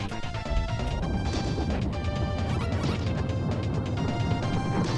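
Crashing and rumbling from the Power Rangers The Movie SNES game, with a loud, continuous run of crunchy impacts and debris-like bursts that lasts the whole stretch.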